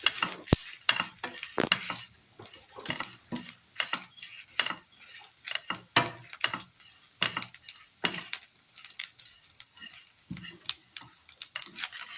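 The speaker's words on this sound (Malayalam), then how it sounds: "ഇനി ഇതെല്ലാം കൂടി നന്നായി ഒന്ന് വറുത്തെടുക്കാം." Grated coconut and fennel seeds frying in oil in a pan for a Kerala curry, close stirring scrapes and ladle knocks in irregular bursts over a faint continuous sizzle, no voices.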